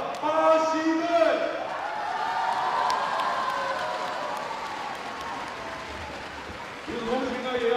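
Crowd applause and cheering at a women's futsal final at the 2024 FISU World University Championship in Shanghai, a broad wash of clapping under a loud announcer's voice.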